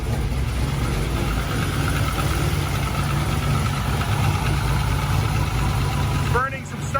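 An LS-swapped Miata engine idles roughly right after its first start, a steady loud low rumble throughout, with a brief squeal near the end.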